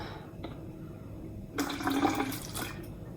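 Drink poured from a bottle into a container, a short gurgling splash in the middle after a quiet start, with a brief trickle following.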